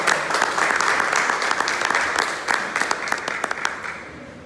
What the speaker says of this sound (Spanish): ¡Fuerte palmas al Señor!